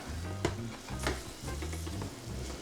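Burger patty sizzling in hot oil in a pan, a steady close crackle with a couple of sharp louder pops, heard alone without talk.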